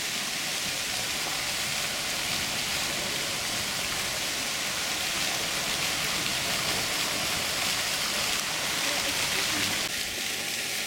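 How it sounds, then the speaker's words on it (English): Fountains splashing in Hviezdoslav Square, Bratislava: a dense, steady hiss of falling water that stays loud and even throughout, with a slight change in texture near the end. "Oh, these are very nice fountains."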